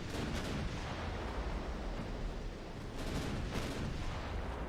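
Battleship main guns and secondary batteries fire high-explosive shells in the naval game Ultimate Admiral Dreadnoughts, a continuous loud barrage of booming blasts with sharper cracks around the start and after three seconds, without talking.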